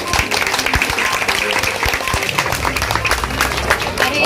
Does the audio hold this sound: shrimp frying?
no